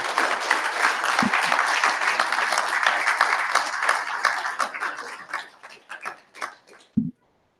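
A crowd at a Sydney ex-Jehovah's Witness gathering in June 2019 bursts into loud, dense applause that holds steady, then thins into scattered claps and fades out, with a few voices mixed in.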